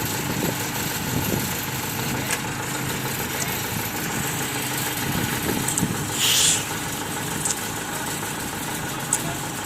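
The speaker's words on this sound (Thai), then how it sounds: "็นครั้งแรกนะครับที่ผมได้ถ่าย รถเกี่ยวข้าว ซุมไลออนนะครับผม" A Zoomlion combine harvester's engine idles steadily at a moderate distance, a continuous low rumbling drone with faint voices and brief background noises over it.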